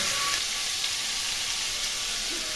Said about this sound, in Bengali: পাঁচফোড়ন দিলাম পাঁচফোড়ন ভেজে নিলাম